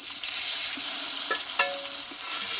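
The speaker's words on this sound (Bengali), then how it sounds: "আমি পাতা বাটাটা এইভাবে ভেজে নেবো" Ash gourd leaf paste frying with onions in a pan, a steady close sizzle with stirring scrapes and a couple of brief clinks, no talking.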